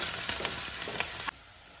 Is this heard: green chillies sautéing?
yes